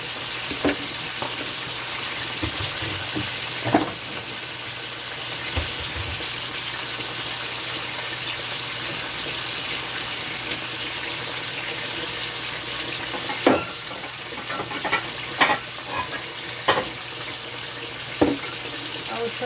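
Bell peppers, garlic, ginger, okra and carrots fry in a pot with a low, steady sizzle, broken by occasional clattering knocks and stirring scrapes, heard up close in a kitchen.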